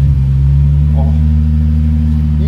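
A Toyota Mark X's engine, fitted with a Kakimoto quad-tip aftermarket muffler, rumbles loudly and steadily at close range, a deep, even drone, while a voice briefly makes a short sound.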